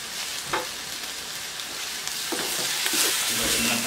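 Lechon sisig with oyster sauce fries steadily in a hot pan, a continuous crackling sizzle with occasional scraping stirs that grows slightly louder toward the end.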